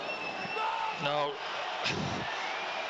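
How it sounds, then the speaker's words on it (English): Crowd noise at a Sunderland AFC versus Queens Park Rangers football match, a steady distant stadium murmur with a brief shout rising above it, heard under a commentator's voice. "You can hear the crowd again."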